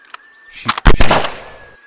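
Gunfire while hunting dinosaurs in the mobile game Real Wild Animal Hunter, a short, loud volley of a few sharp shots that decays quickly.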